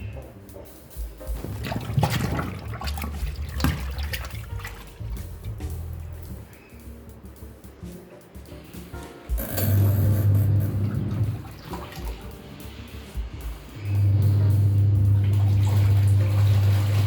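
Water gushes and splashes as a washing machine fills during a load of uniforms and white shirts, in strong surges separated by quieter stretches of trickling and sloshing.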